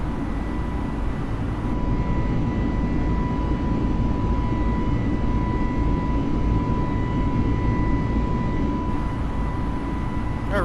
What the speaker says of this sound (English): We're going to go into climb power already.